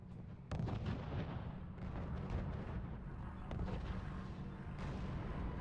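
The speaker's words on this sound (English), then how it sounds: "mobile artillery are preparing to fire on the city" Artillery fire in the World War II strategy game R.U.S.E., a dense, continuous rumble of booming shots and blasts close up, with a few sharper cracks standing out above the steady roar.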